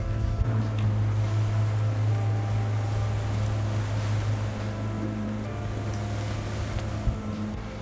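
A boat's nose cutting through waves on open water, with a steady engine drone, the rush of water along the hull and occasional splashes, close and continuous with no speech.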